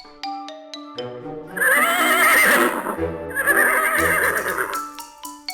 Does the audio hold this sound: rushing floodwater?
no